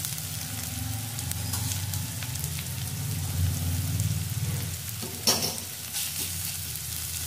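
Ginger garlic paste goes into a pan of browned onions for a tomato egg curry and fries with a steady, dense sizzle like rain on a hot surface, broken by a couple of close scraping stirs and no talking.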